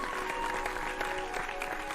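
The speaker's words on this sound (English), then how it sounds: "Applause again." Audience applause in a large conference hall inside the video game An Octave Higher, a steady dense patter of clapping that fills the whole stretch at an even level with no voices.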